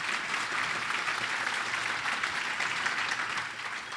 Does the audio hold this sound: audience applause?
yes